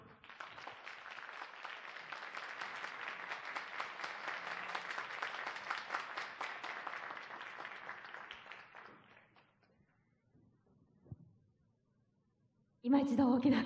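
An audience claps after a samba dance performance at the Kumamoto City Artist Week arts festival: sustained, dense applause for about nine seconds, then fading into near silence, and a sudden loud burst of sound at the very end.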